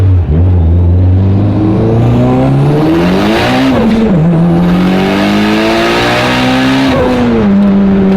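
A Mitsubishi Evo 9 accelerating hard in second gear on a dyno, its engine loud and close, rising steadily in pitch, with a short shift-like dip midway and a brief lift near the end.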